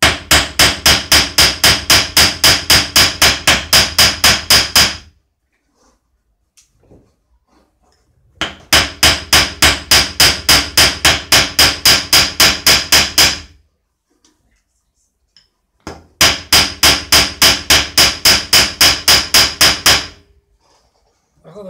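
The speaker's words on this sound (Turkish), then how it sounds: "Bir şey demir dövüyoruz." Iron being forged into a machine tip with a hammer: three loud bursts of rapid, evenly spaced metal-on-metal blows, each lasting several seconds and separated by quiet pauses.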